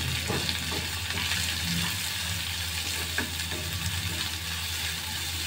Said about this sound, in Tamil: இப்போ வெங்காயம் சேர்த்து லோ ஃப்ளேமில் 3 நிமிஷம் ஆகுது